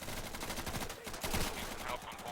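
Distant, faint gunfire in a tactical shooter game with the Tactical Rebalance Mod, scattered shots and short bursts rattling under a low background.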